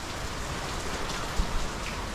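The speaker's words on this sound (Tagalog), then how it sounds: "Lakas ng ulan." Heavy typhoon rain pours down in a steady, dense hiss outdoors, with a couple of faint low thumps and no voices.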